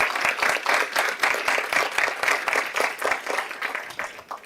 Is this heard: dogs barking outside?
no